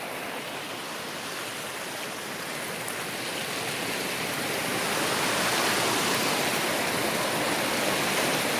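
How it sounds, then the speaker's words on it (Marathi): Stream water rushes in a dense, steady hiss near a dam as someone wades across. The flow is close and continuous and swells slightly louder toward the end, with no voices. "पाण्याला पार करीत करीत जायचं मित्र"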